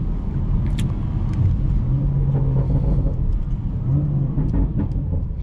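A car engine rumbles steadily at close range while driving through rain, a low continuous drone with slight rises in pitch as it accelerates, loud and unbroken throughout.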